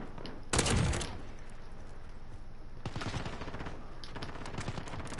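Gunfire in the video game Modern Warfare: a sharp opening blast, then rapid automatic bursts rattling in quick succession, moderately loud and close.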